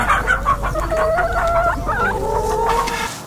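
Hens cluck steadily in a poultry house on a French free-range farm, with a rooster crowing over the flock, many birds close and continuous, no talk.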